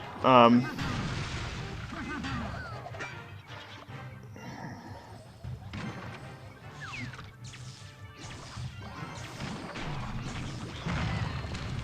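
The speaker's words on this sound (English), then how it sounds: "we're just going to let the bomb blow up on all of that garbage" Giant Skeleton bomb exploding in Clash Royale, with a sharp booming blast near the start, then a busy stream of game crashes, thwacks and effect noises running throughout, with a voice talking over parts of it.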